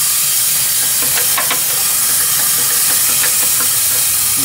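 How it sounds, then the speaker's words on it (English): Air hisses loudly and steadily from an airlock valve on the boiler feed pump of a live steam engine setup, with faint mechanical ticks and knocks beneath the continuous rush. "This is an airlock valve. You get all the air out of it that way"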